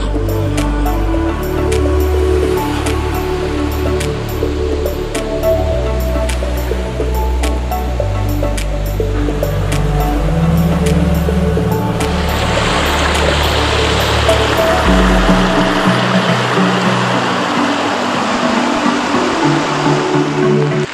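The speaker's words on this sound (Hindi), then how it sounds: "स्पीड भी बहुत ज़्यादा है, ऊपर ऊपर पानी उछल रहा है डायरेक्टली" A river swollen by heavy rain near a dam rushes fast, its water churning and splashing in a loud, steady roar. A low rumble sits under it throughout and shifts partway through.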